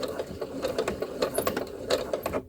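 A sewing machine stitches steadily for a beginner sewing project, its needle mechanism chattering in a fast, even rhythm up close, loud and alone with no talk over it.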